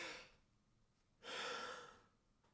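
A deliberate deep breath drawn in during a breathing demonstration: two airy, rushing breaths, a short one at the start and a longer, fuller one in the middle, close and fairly soft, with no talking.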